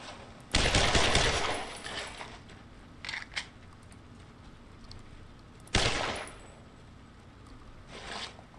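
Brothers in Arms: Road to Hill 30 World War II gunfire: two loud, sharp bursts of close shooting several seconds apart, with smaller clicks and shots between them and a fainter burst at the end.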